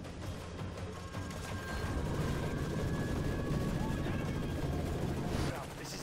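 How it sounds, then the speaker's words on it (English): Machine gun fire from an enemy gunner on a balcony in Call of Duty: Modern Warfare 3 rattles in a steady rumbling battle din, mid-distance and moderately loud, with a voice talking over it. "machine gunner on the balcony"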